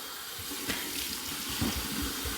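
Warm water runs from a tap in a steady, close hiss with a few faint splashes and bumps, used for a final rinse; no one speaks.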